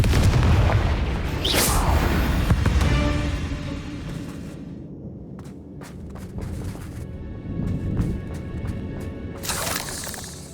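The Confringo explosion spell from Hogwarts Legacy detonates in a loud boom with shattering debris, followed by crackling bursts and a second blast near the end.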